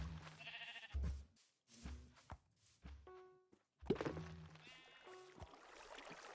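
Blocky sheep in Minecraft bleat in short tonal calls, a few separate cries scattered between thumps and game noises, fairly close and moderate in level.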